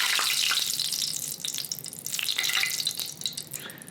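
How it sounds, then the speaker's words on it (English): Drops of water dabbed into hot frying oil for cooking fish set off a crackling, sizzling burst that keeps popping close by, with no voices. "You take a little bit of water, dab it up in there, get that little sparkle, get that little pop."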